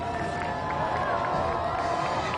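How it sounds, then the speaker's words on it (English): A large crowd cheers and murmurs in a steady, distant wash of voices during a total solar eclipse in Dallas, Texas, a continuous roar with no distinct peaks. "from time to time you can actually hear the crowd of people cheering"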